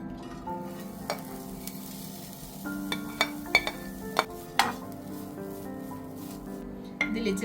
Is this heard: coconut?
yes